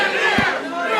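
Wrestling crowd reacting loudly to a hard chop in the ring, a dense, sustained roar of many voices filling the second with a brief sharp shout rising out of it.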